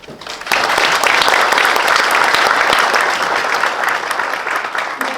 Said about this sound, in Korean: 다시 한번 뜨거운 박수 보내드리겠습니다